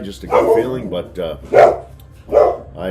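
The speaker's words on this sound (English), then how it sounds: "That is our dog" A dog barks several times in short separated bursts, fairly close and loud, while someone talks over it.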